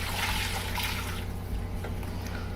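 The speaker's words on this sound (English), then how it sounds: "You pour it right in your mixer bowl" Proofed yeast mixture with stirred-in sugar poured into a mixer bowl for Italian bread dough, a steady close splashing trickle lasting a couple of seconds that thins toward the end, with no talk.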